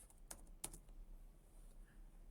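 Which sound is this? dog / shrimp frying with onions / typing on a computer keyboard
typing on a computer keyboard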